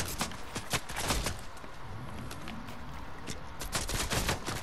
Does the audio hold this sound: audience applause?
no